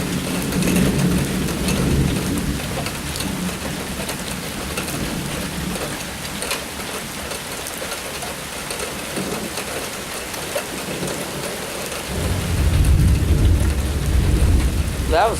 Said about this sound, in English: Raining right now.